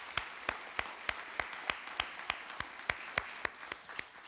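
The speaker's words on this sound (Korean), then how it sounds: "우리 격려의 박수 한번 하겠습니다" Steady, evenly spaced claps ring out at a church service as the congregation applauds in encouragement for those who have just received Jesus, the sharp slaps fairly faint and moderately distant.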